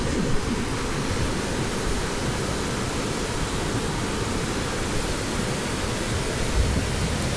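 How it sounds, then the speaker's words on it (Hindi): Water rushes steadily down a mountainside at Trollstigen, a broad, continuous roar with no breaks, loud and close, with no voices over it. "ये सारा पानी यहाँ से बहता हुआ"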